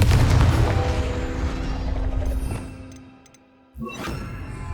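Confringo fire spell blast in the Hogwarts Legacy video game: a loud, booming explosive burst with a rumbling tail that fades, then a second sharp impact near the end.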